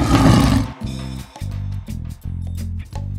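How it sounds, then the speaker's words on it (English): A lion roars in a jungle setting: a loud, dense opening burst followed by a run of repeated, evenly paced low growling pulses that carry through to the end. "Lion."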